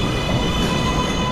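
A Manhattan-bound 2 train on the New York City subway arriving at a station, a loud, steady roar of wheels on rail with a sustained high metallic squeal and tonal hum, close and unbroken.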